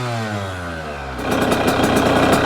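A Yamaha YZ85 dirt bike engine, running rich with plug fouling, idles close by, its rough putter shifting to a faster, busier chug partway through.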